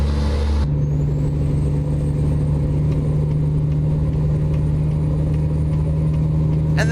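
A truck engine idles and rumbles steadily, heard from outside the cab in American Truck Simulator, a low droning hum with a brief air-brake-like hiss at the start and a faint click near the end.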